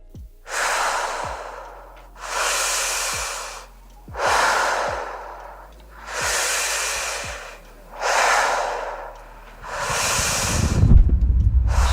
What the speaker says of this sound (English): Shit, breathing hard as hell.